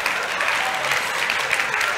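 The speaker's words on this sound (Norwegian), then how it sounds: "Vi regner med at applausen blir fradrag i minuttene." An audience at a talk on mental health and addiction care gives a short, even burst of applause, a dense wash of clapping lasting about two seconds.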